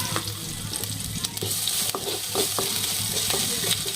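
Green chilies and cumin frying in hot oil while being stirred in a pan: continuous close sizzling with repeated scraping and clinking stirring strokes, no talking.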